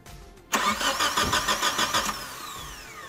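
A car engine cranks on its starter for about a second and a half with a steady, rhythmic churning, but it does not catch, and the sound fades as the cranking stops. The no-start fault is traced to a crankshaft position (CKP) sensor sending no signal.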